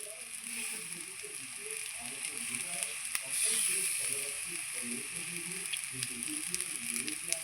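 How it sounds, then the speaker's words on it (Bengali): Onion filling for kochuri frying in a pan, a soft steady sizzle under continuous speech, moderately quiet. "আমি খুব সুন্দর করে ভেজে নেব"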